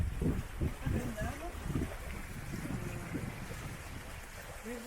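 Steady wind rushes over a sailboat heading into a bay between Sivota and Varko, with the boat's noise and wind buffeting the microphone throughout and voices talking underneath.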